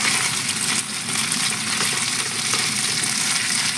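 Afritada ingredients frying in a pan, a steady dense sizzle that holds at an even, close level for the whole stretch with no talk.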